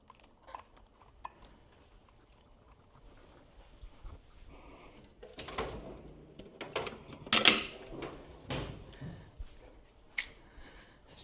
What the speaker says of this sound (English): Do a little zip tie here.